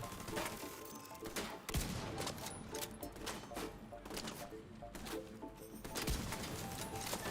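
Gunfire in The Division 2, a steady scatter of quiet, overlapping shots and impacts with a few sharper cracks, mixed with low game noise and some speech-like sound.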